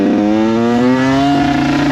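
A Kawasaki 85 KX two-stroke dirt bike engine revs loud and close, its buzzing pitch climbing steadily and then holding at a high, raspy whine.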